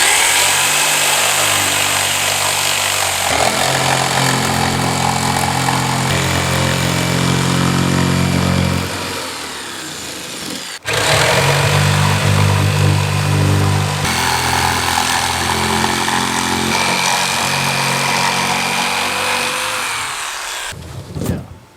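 Power tool cutting and screwing plywood and carpet while building a deck on a 14-foot jon boat, a steady loud whine running in two long bursts with a brief pause between.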